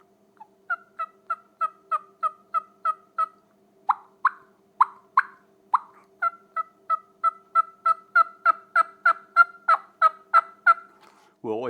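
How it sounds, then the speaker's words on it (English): A wild turkey hen tree yelping softly in a long, steady series of short nasal notes, with a brief pause midway, close and clear against a quiet background. "We'll always call it tree yelping when we're doing the really soft stuff"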